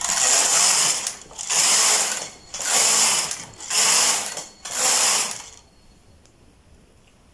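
A knitting machine carriage is pushed across the needle bed again and again while knitting rows for a girl's dress, giving five loud, rhythmic mechanical sweeps close by, each a steady whirring rasp, with a short pause between passes before the sound stops.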